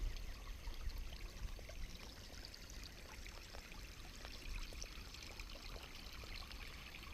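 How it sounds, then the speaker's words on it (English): Water from a stream runs past steadily on a hike in Myron and Sonya Conservation Area, Missouri, a constant close rushing trickle with small splashy bubbles and no talking. "the sole purpose of this clip is just to listen to the water running by"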